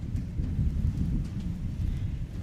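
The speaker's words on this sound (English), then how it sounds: "And sorry for the thunderstorm." Thunder from a thunderstorm rolls as a low, continuous rumble with a faint hiss of rain above it, steady and moderately loud throughout, without voices.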